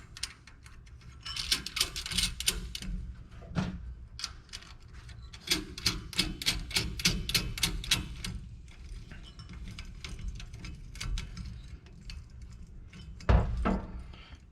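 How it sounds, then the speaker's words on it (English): Nuts being hand-tightened onto the bolts of a boat bracket adapter for an underwater fishing light make bursts of quick, close metallic clicking and rattling, separated by short pauses. "And then you're going to tighten these nuts down."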